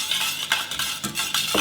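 Shallot vinaigrette of vinegar and olive oil being whisked in a bowl, rapid rhythmic scraping and clinking strokes, close and fairly loud, with no talking.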